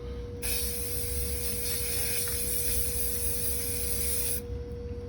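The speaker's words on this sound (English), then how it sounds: "I got my black spray paint" A can of black spray paint hisses in one steady, unbroken burst lasting about four seconds, close and clear, then stops abruptly.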